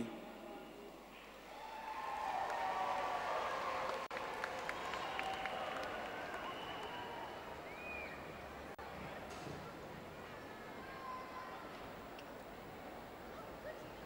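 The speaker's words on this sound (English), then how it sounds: "Please give a round of applause for Aziz Khalidi." An audience at a lifetime achievement awards ceremony applauds, a broad, steady wash of clapping that swells after a couple of seconds and holds, heard from some distance with crowd murmur mixed in.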